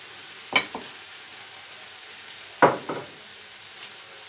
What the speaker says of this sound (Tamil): அடுத்ததாக குடமிளகாய் சேர்த்துக்கலாம்.